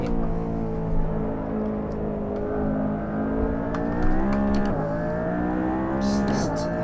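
A 903-brake-horsepower hybrid hypercar engine in the Assetto Corsa racing game drones loud and close, its pitch climbing steadily under power, with no talking.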